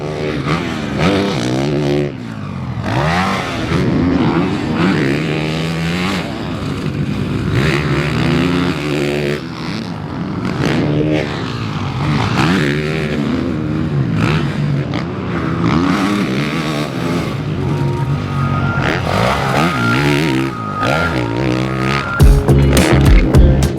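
A 2025 Honda CRF450 Works Edition motocross bike is ridden hard on a dirt track, its engine revving up and down over and over with shifts and throttle blips, loud and close throughout with no talking.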